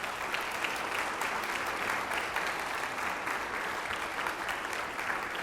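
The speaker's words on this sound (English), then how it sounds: "Let's give a round of applause to all of our schools." A meeting audience gives sustained applause for the district's schools, a dense, even roar of clapping that holds steady and fairly loud throughout.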